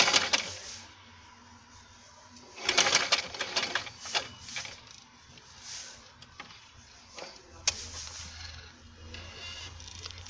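A sewing machine stitches bias piping in short, rapid rattling bursts separated by quiet pauses, with one longer run near the middle and another later on.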